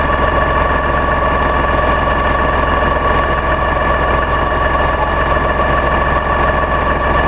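An LS XR 3135H tractor engine runs close and loud at a steady idle, a dense, unbroken diesel rumble with a constant hum and vibration throughout.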